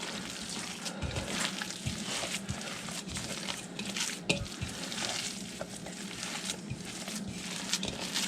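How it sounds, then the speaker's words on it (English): Water being stirred into a food mixture in a home kitchen while making hamburger steak and gravy: a steady, close, wet swishing and scraping with a faint sizzle-like hiss running throughout, moderately loud, with no talking. "I'm just going to add this water into this here, and now mix it on up"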